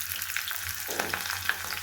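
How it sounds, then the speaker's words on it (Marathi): Green chillies crackle and spit as they drop into a hot oil tempering, a close, busy sizzle with sharp pops scattered through it. No one speaks. "त्याला व्यवस्थित छान असं तडतडू देऊया. मग त्याच्यामध्ये टाकूया आपण हिरव्या मिरच्या."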